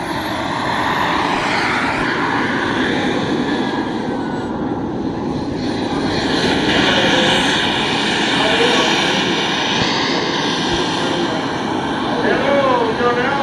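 An Aero Panda Bull turbine jet model aircraft flies at the Joe Nall 2025 event, a continuous loud jet whine and roar with shifting pitch sweeps as it passes, under ongoing announcer-style talk.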